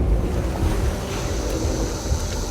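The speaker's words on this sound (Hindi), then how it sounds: "अगर आप सोच रहे हैं कि हम समंदर में क्यों हैं, तो चैंडलर को देखो, क्योंकि यहाँ हम ऐसे ही नहा सकते हैं" Ocean waves wash steadily onto an island shore, a continuous broadband rush of surf with gusty wind noise across the microphone and no voices.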